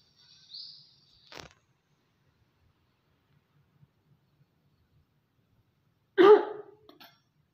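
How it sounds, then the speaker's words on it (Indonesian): A patient gives a single cough during an effective coughing exercise in a clinical setting, a brief harsh burst near the mic following a soft earlier throat sound, with quiet in between. "Kemudian Ibu batuk."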